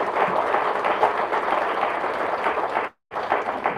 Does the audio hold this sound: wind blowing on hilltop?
no